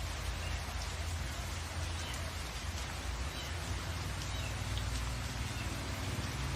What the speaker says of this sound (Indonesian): Selama 3 hari berturut-turut terjadi hujan lebat.